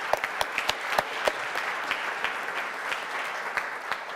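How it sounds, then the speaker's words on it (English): A room at a city council meeting breaks into applause for a group of swimmers, dense clapping from many hands that starts sharp and settles into a steady patter. "I would like another round of applause for these guys."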